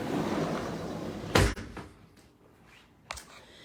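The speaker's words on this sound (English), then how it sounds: "Close this door behind me" A house door is pulled shut with a firm thump, followed by a softer latch click moments later, close by and otherwise quiet.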